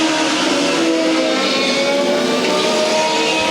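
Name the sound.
INEX Legends race cars racing at Evans Mills Motorsports Park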